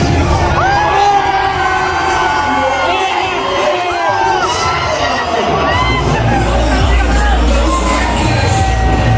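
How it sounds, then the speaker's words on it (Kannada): A packed cricket stadium crowd at an RCB vs CSK match cheers, shouts and whistles loudly for Romario Shepherd, a dense roar with shrill whistles and whoops, and a low rumble building toward the end. "ನಮ್ಮ ರೊಮಾರಿಯೋ ಶೆಪರ್ಡ್ಗೆ ವಿಸಲ್ಗಳು ಬಿತ್ತು"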